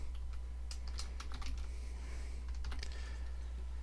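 Typing on a computer keyboard while searching for a texture object in a materials editor, a quiet scatter of light key clicks in short bursts over a steady low hum.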